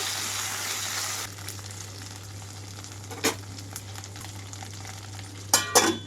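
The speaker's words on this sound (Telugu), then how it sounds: "ఇంకొక ఒక రెండు మూడు నిమిషాల పాటు వేయించుకోవాలి వీటిని" Eggplant frying in a pan gives a steady broad sizzle with a low hum beneath, broken by a few sharp clatters near the end.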